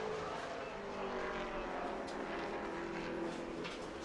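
A Pro Late Model race car at New Smyrna runs a qualifying lap, its engine a steady, fairly distant roar holding a continuous drone throughout with no talk.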